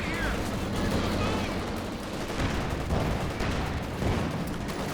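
Sustained machine gun fire from two emplacements in Company of Heroes 2, a dense continuous rattle of gunfire with battle noise, running steadily under a voice talking throughout.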